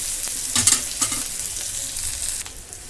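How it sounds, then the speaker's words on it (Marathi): Onion, coriander and curry leaves sizzle and fry in a hot pan while being stirred, a steady bright crackle with a few louder spatters, close and alone without speech. "कांदा सांबा कढीपत्ता आणि जरा परतून घ्या"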